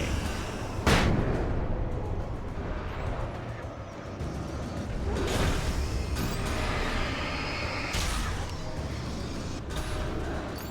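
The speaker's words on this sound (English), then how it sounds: "Flashbang." A flashbang grenade bursts in the video game Alan Wake, a sharp, loud blast followed by several more booming bursts over a steady rumbling game soundscape.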